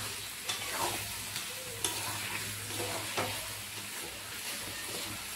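Beef stirred and fried in a pan, with a steady sizzle and repeated scrapes of the spoon at a close, even level and no talking.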